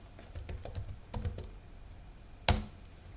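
Someone types a password on a computer keyboard: a short burst of soft, quick key clicks, a pause, then a few more taps and one louder final keystroke, close and isolated.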